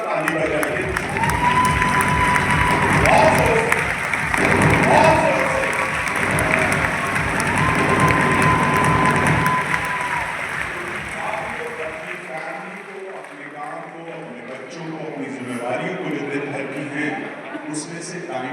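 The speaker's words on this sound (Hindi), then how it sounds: "अपने लिए जोरदार ताली बजाइए" An audience at a Herbalife event breaks into loud, sustained applause that gradually thins out, while a voice speaks over the clapping.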